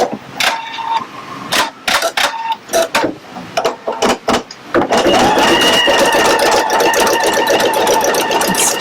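A Pfaff Creative Icon 2 embroidery machine sewing an in-the-hoop bag project first gives a series of separate clicks and taps, then settles into a loud, steady, rapid stitching whir for a tack-down stitch.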